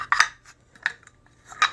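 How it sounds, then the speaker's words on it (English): A wooden lid is set onto a turkey hunting box call with three short, bright wooden clacks and scrapes spaced across under two seconds, close and alone. "Lid goes on."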